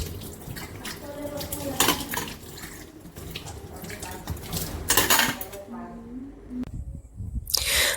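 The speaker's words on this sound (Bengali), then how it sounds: "তো এখন তাড়াতাড়ি করে আমি একটু ঠাকুরের বাসনগুলো ধুয়ে নিই" Metal worship utensils are rinsed and scrubbed under running water, with clinking and clattering of pots and dishes over splashing, close and fairly loud, while someone talks throughout.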